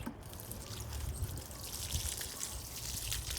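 Water poured or trickling over garden plants while watering, a steady close splashing flow that runs continuously without voices.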